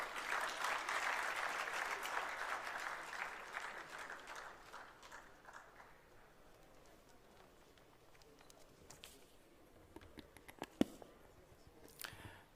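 Audience applause welcoming a speaker at a Hindi-language gathering, a dense clapping crowd that is loudest at the start and thins out over several seconds, then gives way to scattered faint sounds.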